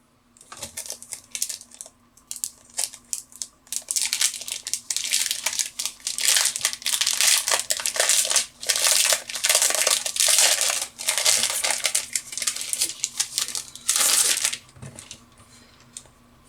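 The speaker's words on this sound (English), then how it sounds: "We got some cardboard to look at here." Cardboard packaging and components of the Oros board game handled during an unboxing: sustained close crinkling, rustling and crushing of cardboard and plastic, with a few sharp taps and clicks, loud and continuous through the middle before tapering off.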